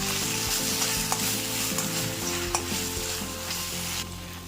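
A spice mixture with salt stir-fried in a hot pan for a crispy corn snack, with a dense continuous sizzle and frequent scraping, knocking stirring strokes close up, and no talking.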